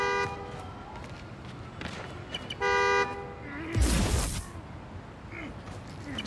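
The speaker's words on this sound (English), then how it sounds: "Find the horn, find the car." A car horn in the video game Spider-Man: Miles Morales toots a couple of short beeps amid background traffic-like noise, with a brief thump and faint movement sounds.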